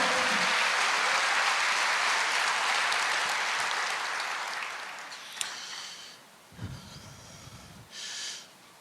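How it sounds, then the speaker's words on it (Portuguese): A church congregation applauding during a sermon, a dense, sustained wash of clapping that fades out over several seconds, followed by a few breathy sounds and small noises near the microphone. "Pode aplaudir o Senhor."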